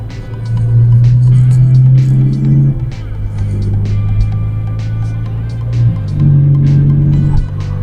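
Volkswagen engine humming loud and close from inside the car as the DSG automatic gearbox shifts, the steady drone dropping in pitch at each change, with a voice speaking over it.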